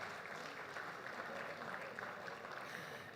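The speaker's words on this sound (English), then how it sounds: "a round of applause for cooperative societies across the world" Steady, dense applause from a large audience at a cooperative societies opening programme, a continuous wash of clapping that holds evenly for a few seconds.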